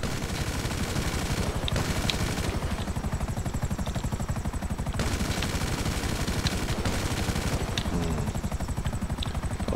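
Weapon fire in GTA 5 Online during a flight school shooting range lesson, sustained rapid-fire bursts over a constant helicopter rotor drone, loud and continuous with brief pauses between volleys.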